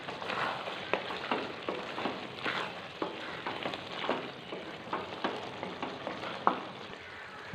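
Capsicum and potatoes fry in a pan, with a close, moderate sizzle punctuated by frequent scraping stirs and small clacks of a spatula in an uneven rhythm, with no talking.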